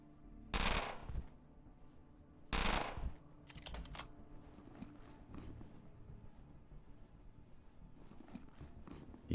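Bursts of submachine-gun fire in the video game Underrail, two loud volleys in quick succession followed by faint scattered shots and clatter, with no talking.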